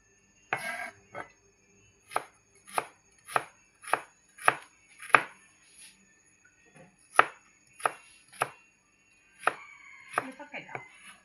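Ginger being chopped with a knife on a board: about fourteen crisp, close chops in a loose rhythm, with a short pause midway and a brief faint voice near the end.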